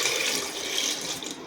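Water is poured into a pressure cooker holding 500 grams of raw mangoes, a close, steady splashing stream lasting about a second and a half.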